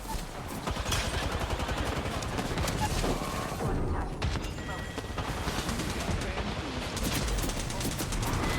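Rapid automatic gunfire in a shooter video game, with dense bursts and impacts rattling almost continuously, easing briefly midway before resuming at full intensity.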